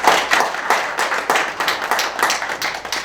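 Audience at a ceremony applauding, many hands clapping in a dense, steady patter that stays loud throughout with no talking.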